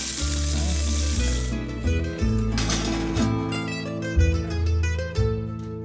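Food sizzles in a hot pan with olive oil, a steady close frying hiss broken by occasional stirring scrapes and clinks, with no talking.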